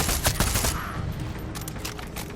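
Gunfire in the shooter Far Cry 6 while a helicopter is nearby, a loud volley of rapid shots at the start that eases into scattered bursts over a steady rumbling background.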